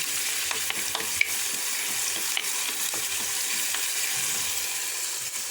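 Crushed garlic sizzles in a hot pan, a steady dense crackle with occasional sharper pops and stirring scrapes, close and loud with no voices.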